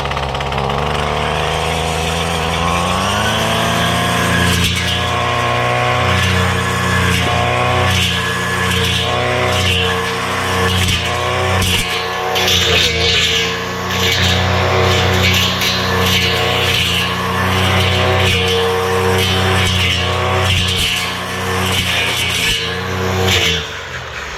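A Husky power head fitted with a Wild Badger string trimmer attachment starts up and runs steadily, its small two-stroke engine droning loud and close with rising and falling revs for the whole stretch, no talking.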